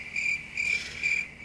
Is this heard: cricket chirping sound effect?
yes